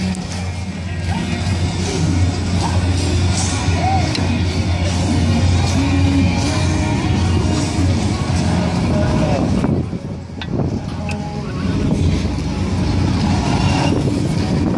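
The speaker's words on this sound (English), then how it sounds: "This is another classic carnival ride, the Scrambler or Sizzler." A Scrambler (Sizzler) carnival ride rumbles and whirs steadily with mechanical clatter, distant shouts and faint background music, continuous throughout.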